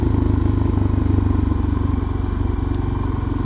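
A motorcycle on a spring ride through small towns in the Kawasaki area of Japan gives a steady, loud, pulsing engine drone heard close up, with a rapid even beat throughout.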